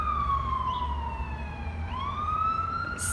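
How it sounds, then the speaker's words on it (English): A wailing siren sweeps down and back up in pitch over a low traffic rumble, heard at a moderate distance. "Siren in the background."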